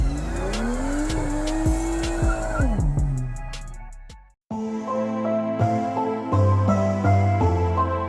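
Single-turbo BMW E92 with an N54 engine drifting on a frozen lake, loud revving engine climbing and dropping with tire squeal, a sudden cut, then the engine resumes with rhythmic bursts of throttle.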